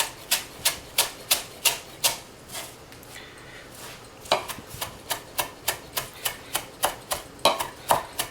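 A knife chops rough-cut parsley on a cutting board for a three-herb potato salad. The strikes come up close in a quick, steady rhythm, pause for a moment, then resume at the same pace with sharp, crisp knocks.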